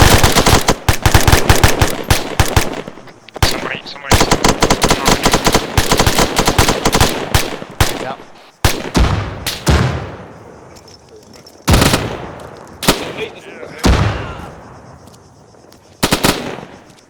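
Gunfire during a close-quarters battle training exercise in a built-up area: rapid loud bursts of automatic fire at first, then sparser single and paired shots, some echoing, close and sharp.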